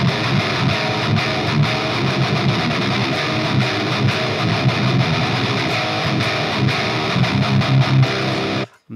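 A loud, distorted electric guitar in C standard tuning churns through a heavy, chugging riff for several seconds, then cuts off abruptly at the end.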